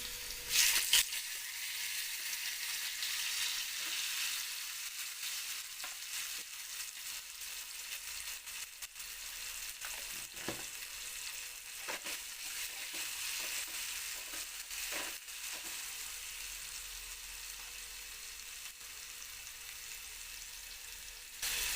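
Tomato sizzles with ginger-garlic paste in a pan for a vegetable spring roll filling, a steady moderate frying hiss lasting over twenty seconds, broken by occasional sharp stirring clicks.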